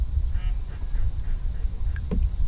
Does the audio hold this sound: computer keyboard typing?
no